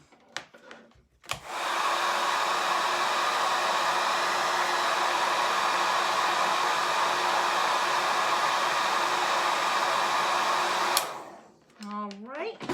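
Hair dryer blowing steadily to dry chalk paste on a Chalk Couture craft piece: a loud, constant close-up whoosh running about ten seconds, with faint handling sounds before it starts and after it cuts off.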